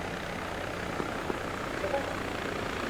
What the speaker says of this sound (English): Fly out with the coast helicopter.